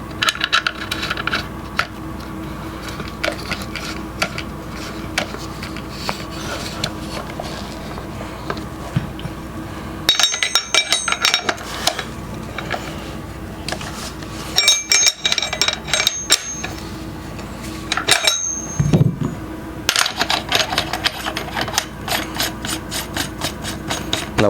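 Threading a Griffin Armament Optimus silencer onto a 5/8-threaded .308 barrel gives close, irregular metallic scraping and ratcheting clicks, in bursts with short pauses.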